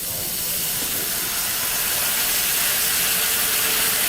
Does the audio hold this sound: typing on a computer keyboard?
no